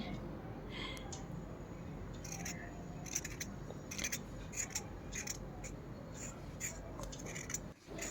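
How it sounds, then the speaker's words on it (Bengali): A pointed gourd (potol) is peeled with a blade in short, crisp scraping strokes, repeated at an irregular pace, close and fairly quiet with faint kitchen background. "প্রথমে পটলটাকে ভালোভাবে আমি ছাড়িয়ে নিচ্ছি, জাস্ট ছিলে নিচ্ছি"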